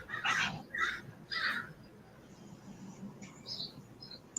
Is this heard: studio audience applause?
no